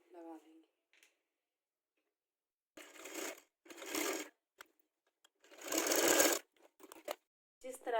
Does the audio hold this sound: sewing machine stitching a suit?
yes